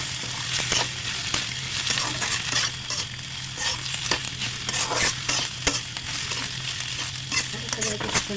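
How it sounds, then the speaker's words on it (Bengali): Chopped potato frying with onion in a pan, a steady close sizzle broken by repeated scraping stirs and light clatter throughout. "এখন দিয়ে দেবো কুচি রাখা আলুটা"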